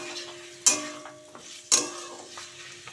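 A spoon stirring spring roll filling with chili sauce in a hot pan, with a steady low sizzle and two sharp scraping clinks of utensil against the pan, close and alone.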